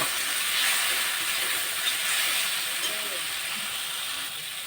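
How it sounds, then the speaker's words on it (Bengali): Tomato stirred into frying masala for a steamed egg dish fills the pan with a loud, continuous hiss and sizzle that stays nearly constant throughout, with no clear stirring strokes. "টমেটো দিয়ে একটু নাড়িয়ে নেব"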